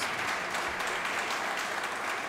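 A church congregation at an evening worship service claps in praise, a thick, continuous wash of many hands at a steady moderate level with no speech over it.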